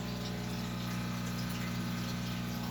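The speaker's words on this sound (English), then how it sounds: "the filter is pretty loud right now because of how much water is taken out of the tank" An aquarium filter in a 72-gallon tank runs loudly with the water level lowered, giving a steady, close mechanical hum with constant watery churning throughout, no voices.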